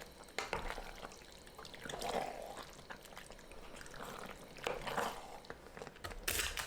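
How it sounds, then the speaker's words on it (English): Cooked penne is stirred into sauce in a pan over low heat, giving soft, wet squelches and scraping stirs in uneven bursts, close but quiet, with no talk. "Mix the pasta in over low heat."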